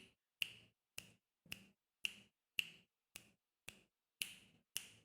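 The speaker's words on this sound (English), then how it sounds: "these are snaps and claps for anyone just listening" Crisp finger snaps keep a steady beat, about ten even, sharp clicks roughly half a second apart, close and isolated with silence between them.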